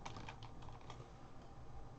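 Quick, steady typing on a computer keyboard while entering a spreadsheet formula, a dense run of close, light key clicks with no talking.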